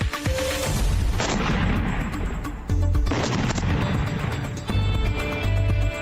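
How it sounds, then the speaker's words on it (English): Explosions in Webster from a news report play back as repeated heavy booms and crackling blasts, loud and dense, with sharp bursts and sustained rumble. "The explosions are back in Webster."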